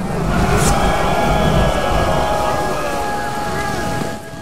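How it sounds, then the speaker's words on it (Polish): Thunderstorm rain in the strategy game Ancestors Legacy: a dense, loud downpour with low rumbling thunder underneath, steady throughout before easing slightly at the end, with no talking. "jeszcze burza, ale cyrk się dzieje"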